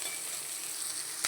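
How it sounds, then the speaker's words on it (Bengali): Whole peeled garlic cloves fry in hot oil with a steady, even sizzle and one brief louder crackle near the end. "লাল লাল করে ভাজবো একটু। গোটা গোটাই রসুন ছাড়িয়ে দিয়ে দিয়েছি,"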